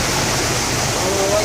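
Heavy rainwater rushing along Abu Bakr Street in Taif makes a loud, continuous broadband roar. A voice is faintly present beneath the torrent.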